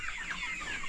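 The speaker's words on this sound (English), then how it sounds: "these are now the chicks feeding" Improved Kienyeji chicks of the Sasso breed cluck and cheep steadily while feeding, a dense, continuous chorus of many small birds close by with no talk.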